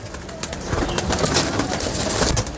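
A pigeon from a fancier's prized loft, heard close as a scatter of sharp flutters and soft rustling, with a few louder bursts of wingbeats or movement across a couple of seconds.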